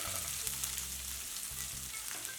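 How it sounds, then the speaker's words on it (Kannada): Finely chopped medium onions frying in a pan for a village-style tomato-onion chutney, a steady close sizzle with faint stirring scrapes, no voices. "ಸಣ್ಣದಾಗಿ ಹೆಚ್ಕೊಂಡಿರೋದು ಈರುಳ್ಳಿ ಹಾಕ್ಕೊಳ್ಳೋಣ. ಈರುಳ್ಳಿ ಸ್ವಲ್ಪ ಕಲರ್ ಚೇಂಜ್ ಆಗಲಿ."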